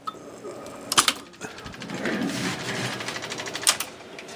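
A 1961 Seeburg AY100U jukebox mechanism clunks and whirs as it picks up a record, with sharp mechanical clicks near the start and end around a steady motorized grind.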